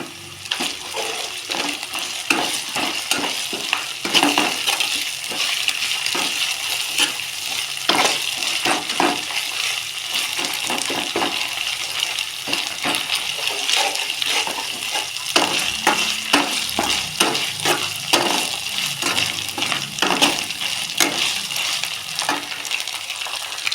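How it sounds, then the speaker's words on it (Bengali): A paste of cumin, ginger and garlic sautéed in a pan for banana-flower kofta curry: a long, steady, wet sizzle broken by frequent rhythmic scraping strokes of a spatula, close and fairly loud. "জিরে বাটা আদা বাটা রসুন বাটা সমস্ত মশলা দিয়ে খুব ভালো করে কষে দেব"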